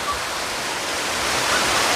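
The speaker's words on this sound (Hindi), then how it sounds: "पानी की आवाज़ आप सुन सकते हो" A waterfall on the path to a shrine and picnic spot sends out a steady, dense rush of water that sounds close and fills the whole short stretch with no other sound.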